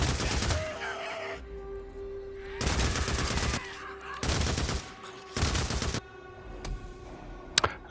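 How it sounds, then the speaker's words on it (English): Loud bursts of gunfire tear into a zombie horde in the PS5 game Days Gone, four heavy volleys of roughly a second each separated by short pauses, with sharp single shots near the end. "I'm just going to get the gun out and just take care of the last of them with gunplay"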